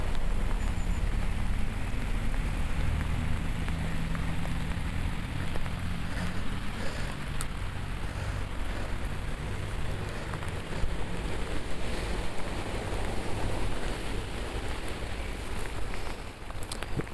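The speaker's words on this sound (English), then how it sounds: "This rain is going to be here until around about 11 o'clock by the looks of things." Steady rain falls on a small canal, a dense, even hiss with low rumbling texture that stays constant and fairly close throughout, with no voices.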